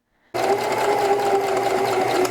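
A sewing machine stitches a peacoat seam on a wrap coat, running steadily and loudly for about two seconds after a short silent start, with a continuous hum and no talking.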